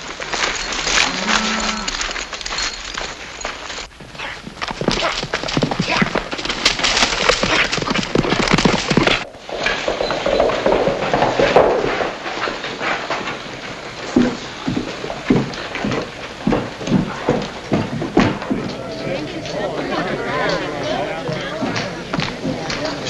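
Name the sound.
horses clip-clopping, neighing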